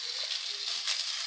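Methi paratha sizzles steadily in sunflower oil on a hot griddle, a close, continuous bright crackle with no talking.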